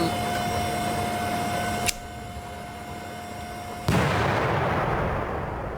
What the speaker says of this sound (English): What the hell was that? It sounded like an explosion.